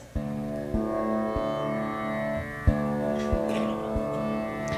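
Sitar drone strings ringing with bright, sustained, buzzing overtones, repeatedly plucked in a loose rhythm so that fresh attacks layer over the lingering resonance, up close and with no talking.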